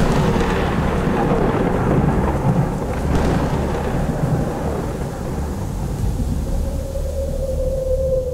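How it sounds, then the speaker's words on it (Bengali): Thunder rumbles and cracks through steady heavy rain in a storm scene at sea, a continuous loud roar with a sharper clap near the middle and no voices. "এই সময় আরও 2টি বাজ পড়ল সশব্দে।"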